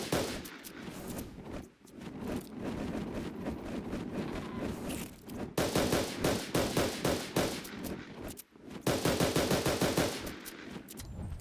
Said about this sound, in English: let's try out this new new primal sniper rifle